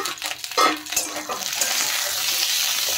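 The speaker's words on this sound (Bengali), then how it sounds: "গ্যাসের ফ্লেমটা কিন্তু লো রেখে এই আমড়াগুলো ভালোভাবে কষিয়ে নিতে হবে" Hog plums sautéed in a pan over a low gas flame for pickle, a few clattering stirs of a spatula at first, then a steady close hiss of sizzling oil with no talk.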